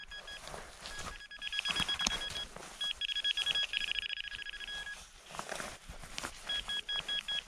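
A metal detector gives repeated electronic beeping tones in bursts, close and moderately loud, over rustling and outdoor movement while searching a slope.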